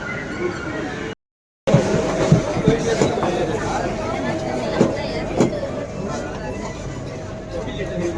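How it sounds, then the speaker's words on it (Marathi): A Mumbai metro train runs from Versova to Andheri, heard from inside the carriage as a steady rumble with a sharp brief drop-out. Passengers chatter and a nearby voice talks over the noise. "इथून आम्ही आता चाललोय आहे वर्सोवा ट्रेनने अंधेरी"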